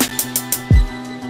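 Programmed hi-hat hits in FL Studio, all at full velocity, tick out in an even, mechanical row of identical bright strikes, followed by a single deeper electronic bass thump; no voices.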